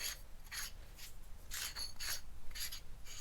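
Threads grinding as a part on an FRS car is loosened, a repeated rasping scrape in short bursts with brief gaps, close and fairly quiet, with no speech.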